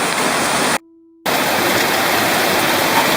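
Small stream rushing through a Brazilian forest, a loud, steady broadband wash of water close by, briefly cut to silence before resuming unchanged.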